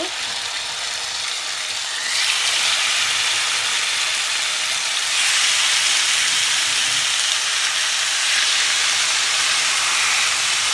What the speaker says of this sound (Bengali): এখন আমি ফ্রাই প্যানের ভিতরে এরকম কাঠিগুলো ধরে এভাবে দিয়ে দিব